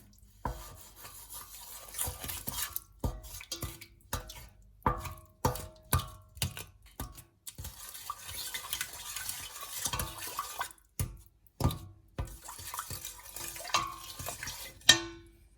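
A spoon scrapes and stirs butter, water and sugar in a pan in repeated short strokes, with occasional light clinks and liquid sloshing, close up and without talk.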